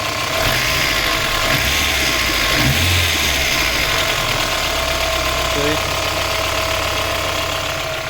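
A VAZ 21010 car engine idles steadily and loudly, with a continuous rustling, whirring bearing noise running through it; a voice speaks briefly partway through.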